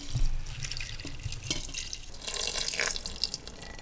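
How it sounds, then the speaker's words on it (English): Water pours from a tap into a pot of rice for Hainanese chicken rice, a short close splashing and trickling that swells and fades over a few seconds. "I'm just going to add a little bit more water."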